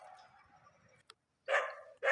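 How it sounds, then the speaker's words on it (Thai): A dog barks twice in quick succession, fairly close, after a stretch of softer whining or yelping sounds. "หมาก็เห่าจัง"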